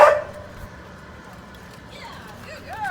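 Dog barks once sharply up close during a search and rescue technology evaluation, followed by a few higher yips or whimpers as people talk nearby.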